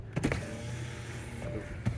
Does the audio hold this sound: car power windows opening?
yes